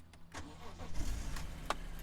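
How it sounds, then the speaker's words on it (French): A BMW M3 engine starts up, a short cranking burst followed by a low rumble settling into idle, heard close with faint background noise. "je vais la démarrer pour vous faire écouter ce magnifique bruit"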